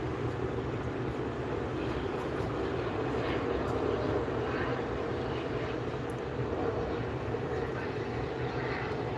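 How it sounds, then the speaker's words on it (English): An Air Share Embraer Phenom private jet arriving from Napa at SNA airport produces a steady, even engine roar that holds at a constant level throughout, heard from a distance. "here's the Air Share Embraer Phenom"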